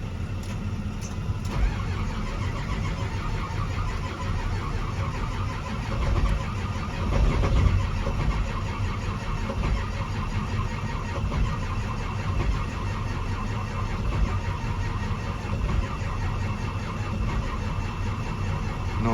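A 2005 Ford F-250 with a 6.0L diesel cranks steadily for a long stretch, a continuous low churning drone with a brief swell midway, close and loud, with no clear catch.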